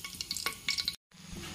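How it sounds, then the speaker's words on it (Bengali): A bay leaf and two cardamom pods fry in a little white oil in a pressure cooker: a soft sizzle with quick spatters and stirring clicks, briefly cut off, then a quieter hiss. "এতে তেজপাতা ফোড়ন দিয়ে দিচ্ছি আর দিচ্ছি দুটো এলাচ। এগুলো একটু ভেজে নেব।"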